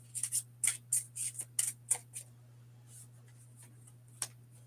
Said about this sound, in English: and I'm gonna put them face down.